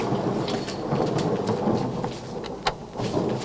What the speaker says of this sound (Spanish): Vaya tormenta que se avecina. ¿Cómo que se avecina? Ya la tenemos.